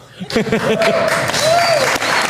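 A crowd at a Mar-a-Lago event applauds with steady, dense clapping and some cheering, while someone speaks over it up close.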